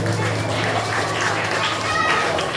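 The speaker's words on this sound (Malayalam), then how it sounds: "കുട്ടികളെ കൈയടിച്ച് പ്രോത്സാഹിക്കണം കേട്ടോ" An audience claps for children at a church Sunday school anniversary, a steady patter of applause heard faintly beneath talk.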